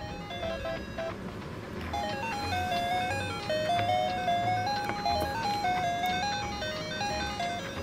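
A Hello Kitty toy phone from a shopping playset plays a bright electronic ringtone melody, a tinkling, music-box-like tune of stepped beeping notes, close and clear, repeating for several seconds without talking.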